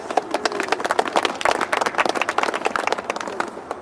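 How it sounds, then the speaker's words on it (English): An outdoor crowd in a city square at a flag-raising ceremony applauds Toronto City Councillor John Filion, close, irregular clapping that tapers off after a few seconds. "so let's give him a big round of applause"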